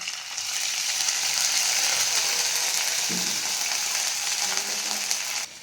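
Ginger, cumin and green chilli paste sizzles steadily in hot oil, a loud continuous frying hiss lasting the whole stretch with faint stirring clicks, no one speaking.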